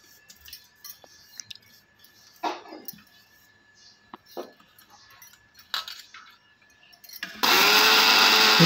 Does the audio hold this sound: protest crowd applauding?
no